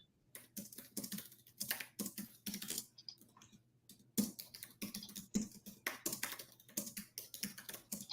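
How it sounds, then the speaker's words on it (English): Computer keyboard keys clatter in quick, irregular bursts of typing, close and fairly quiet, with short pauses between runs and no talking. "I'm just typing something in here to see"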